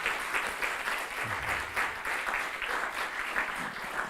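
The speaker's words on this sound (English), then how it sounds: "Can you give a round of applause for them?" Steady applause from an audience at an esports diversity panel conference, a dense continuous patter of many hands clapping at moderate level, filling the room without a break.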